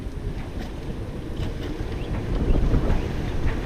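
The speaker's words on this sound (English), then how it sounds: "It's a little bit windy today" Strong wind buffets a sailboat riding at anchor off Lanai, Hawaii, a constant roaring rush of gusts and microphone buffeting over water noise, with no voices.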